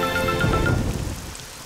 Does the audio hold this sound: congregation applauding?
no